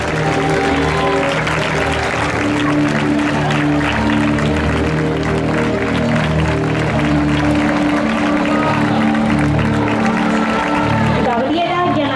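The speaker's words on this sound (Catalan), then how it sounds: "Els demanem un fort aplaudiment" Loud, sustained applause from a crowd welcoming the honour court of the Valencia Fallas child fallera major, steady throughout with an announcer's voice speaking over it.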